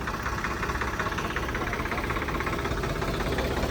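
A Swaraj 855 shuttle-gear tractor, 2024 model, idles with a steady, rumbling chug, close and continuous throughout, with no voices.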